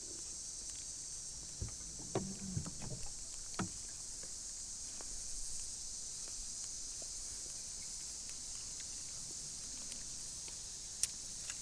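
A small boat is rowed across a lake, with a handful of dull oar knocks and splashes early on, then mostly quiet gliding under light wind and outdoor ambience.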